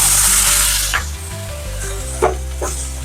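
Loud, crackling sizzle of Kharda chicken frying in a pan as lemon juice is added, with spattering bursts and a few sharper pops close by.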